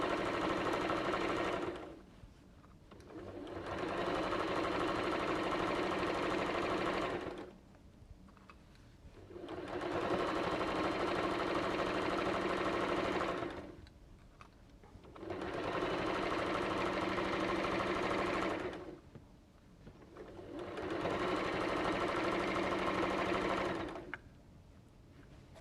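A sewing machine top stitches a fabric basket, its motor whirring in four long steady runs of several seconds each, separated by brief pauses, close and alone with no talk.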